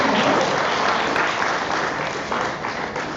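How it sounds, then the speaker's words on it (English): An audience at an academic postgraduate colloquium applauds the panel, a sustained, even roar of clapping that stays loud and gradually eases off slightly toward the end. "a huge, huge round of applause to our panel"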